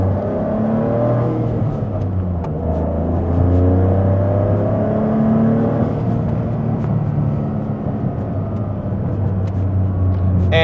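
A car on a test drive, its steady engine and road rumble filling the cabin with a low drone that swells and eases as it accelerates, close and continuous.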